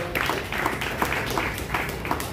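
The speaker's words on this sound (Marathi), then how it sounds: "या 86 वर्षाचे जे इथे आलेले आहेत त्यांच्यासाठी परत टाळ्या होऊन जाऊ दे." A lecture audience at Atre Katta in Thane claps for 86-year-old attendees, with steady, fairly close applause running throughout.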